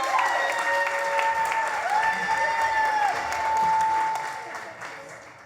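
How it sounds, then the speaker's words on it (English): Audience applause at a real estate masterclass session in Orlando, a steady burst of clapping lasting several seconds with some voices and tonal sounds mixed in, fading toward the end. "let's give a giant round of applause to Andres Ospina"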